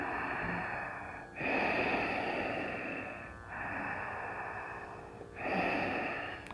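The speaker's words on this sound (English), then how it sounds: "deeper ujjayi breathing" Deep ujjayi breathing during a yoga session, slow audible breaths through a constricted throat, three long airy cycles close to the ear, strong and steady with short pauses between.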